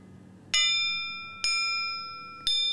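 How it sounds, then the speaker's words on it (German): A soldered double gun barrel in a gunsmith's workshop is struck three times, each strike giving a clear, bell-like ring that slowly fades. "ein Klang wie eine Glocke"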